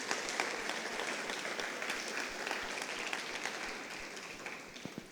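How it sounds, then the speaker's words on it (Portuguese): A church congregation applauding, dense sustained clapping from many hands heard at a moderate distance, steady throughout and easing slightly toward the end. "Dá uma salva de palmas ao Senhor por causa disso."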